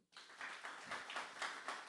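A church congregation claps during a Sunday service, rhythmic group clapping in steady beats that starts abruptly after a moment of quiet, fairly faint and distant.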